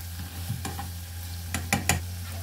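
Meat seasoned with cumin, paprika and a pinch of nutmeg sizzles steadily in a pan, broken by a few sharp, close scrapes and clanks of stirring.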